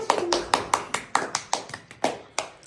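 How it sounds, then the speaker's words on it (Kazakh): Hands clap in a steady, evenly spaced rhythm, about a dozen crisp, close claps in a few seconds, cheering on a friend who won first place in a competition. "Шапалақ қайда?"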